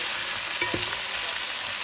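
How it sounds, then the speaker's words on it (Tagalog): Chicken pieces frying in a pan for Filipino tinola, a soft steady sizzle with a brief stir or clatter near the middle, no talk. "Vamos a freír un poquito más."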